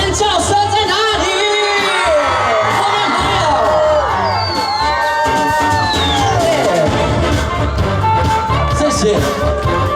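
Concert crowd at an evening outdoor show in Tanzi, where a Taiwanese-language singer performs, screams and cheers loudly and without a break for the whole stretch, with whoops and shouts rising over the dense roar.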